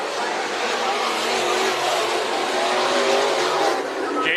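A heat race at Bakersfield Speedway sends cars roaring around the dirt track in a loud, steady wash of engine noise that hardly lets up from start to finish.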